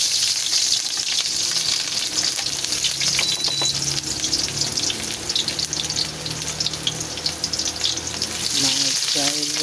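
Garlic and onion frying in a pan for fried rice, a steady loud sizzle running throughout with scraping of stirring near the end.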